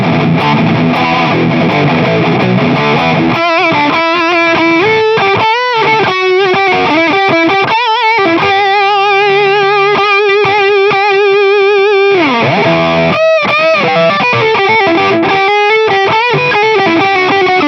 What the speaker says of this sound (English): a much less pleasant distortion sound